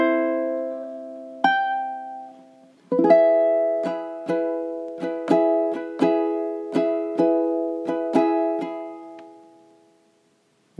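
A ukulele plays bars 25 to 28 of a song, with a few ringing chords followed by a run of evenly spaced strums that fade into silence, close and alone.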